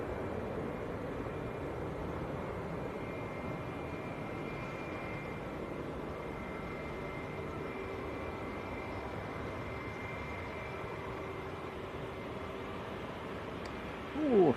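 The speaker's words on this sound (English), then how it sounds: "Oh, Finnair, 320 I think this one is, in from Helsinki." A Finnair Airbus A321 arriving from Helsinki at Manchester Airport, a steady distant jet roar holding evenly throughout with a faint whining engine tone, swelling slightly at the very end.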